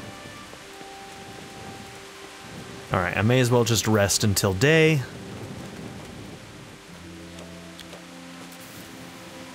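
Rain patters quietly and steadily in the medieval RPG Kingdom Come: Deliverance, a low, even wash running beneath a man's brief spoken remark midway, then continuing alone with a faint low hum.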